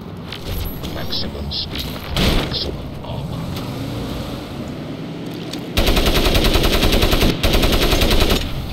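Gunfire in a video game shoots out a vehicle's tires: scattered close shots and booms early on, then a loud, sustained burst of rapid automatic fire, with players talking over it.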